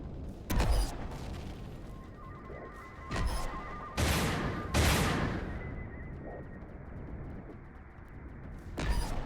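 Turrets fire in Empyrion in a few loud, sharp bursts spread several seconds apart over a low hum and faint tones, with no voices.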